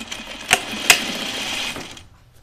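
A sewing machine hums steadily at close range while stitching a Grainline Studio Willow tank, with two sharp clicks early on, then it stops abruptly near the end, leaving quiet.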